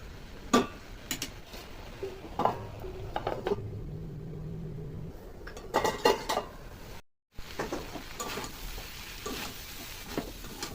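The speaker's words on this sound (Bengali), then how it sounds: "তরকারিটা কিছুক্ষণের জন্য ঢেকে দেবো" A pot of gourd greens and prawn curry gets covered with a lid: sharp metallic clanks and clinks of cookware sound close by, with a brief lull and soft scraping between the knocks.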